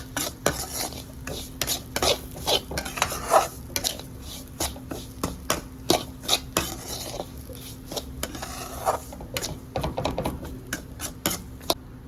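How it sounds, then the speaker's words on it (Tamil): Rava and cardamom powder being stirred and roasted in a metal pan, with a spoon scraping and clinking against it in a quick, irregular rhythm throughout, close and fairly quiet. "நல்லா வறுத்துக்கணும், நல்லா கலக்கி விடணும்"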